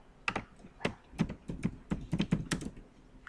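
Someone types a caption on a computer keyboard while working in SCADA software, with about a dozen sharp, close keystrokes tapped in an uneven rhythm with short pauses.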